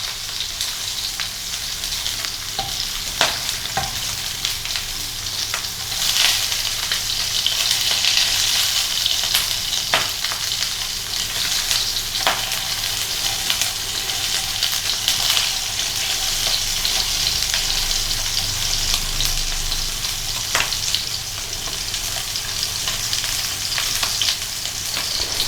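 Homemade meatballs frying in a pan, rolled around to brown on all sides, making a loud, continuous sizzle with occasional sharp pops and scraping clicks from turning them, close up and without talk throughout.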